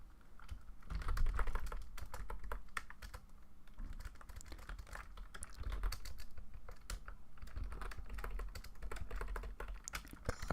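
Rapid typing on a computer keyboard while playing Minecraft, dense irregular clatter of keystrokes running continuously, close and moderately quiet, with no talking.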